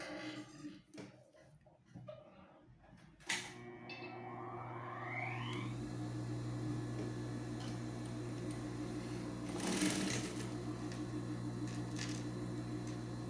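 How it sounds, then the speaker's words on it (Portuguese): A sewing machine starts up after a few soft handling noises and runs in a steady, close whirring stitch while bias binding is sewn onto a blouse sleeve, with a brief louder burst near the end. "agora eu vou costurar esse viésinho aqui"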